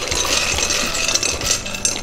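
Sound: rigatoni pasta added to boiling salted water

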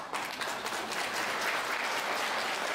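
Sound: wedding guests applauding the bride and groom

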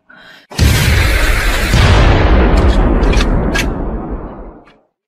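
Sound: artillery fire sound effect

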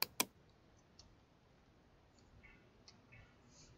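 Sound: computer mouse clicking in Photoshop

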